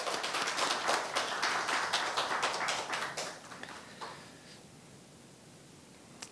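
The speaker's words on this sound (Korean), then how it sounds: "정말 다시 한번 뜨거운 감사의 박수 올리면 좋겠습니다." A church congregation applauds, a dense, full burst of clapping that carries for a few seconds before fading to quiet room tone.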